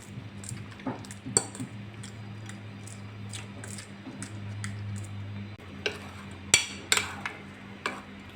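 A spoon stirs milk into aval (flattened rice) in a bowl, giving soft intermittent clinks, taps and wet scraping at close range with no talking.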